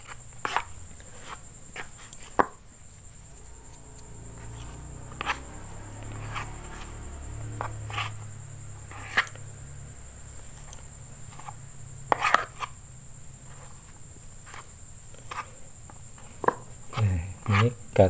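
A sticky catfish bait mixture is stirred and kneaded by hand, giving soft low squelching with scattered light clicks and taps, close and fairly quiet, with no talking.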